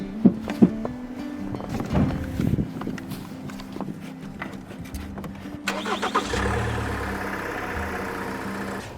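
A van's engine cranks during a jump-start attempt on a stalled car in Iceland, with footsteps and clunks first, then a sustained grinding starter whine under rumbling idle-like noise.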